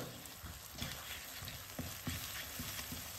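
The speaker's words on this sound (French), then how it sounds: "Alors là, je mélange bien ensemble pendant quelques secondes." Chicken kottu parotta with eggs being stirred and fried in a pan, a steady close sizzle broken by repeated scraping and tossing strokes at an irregular rhythm, with no voices.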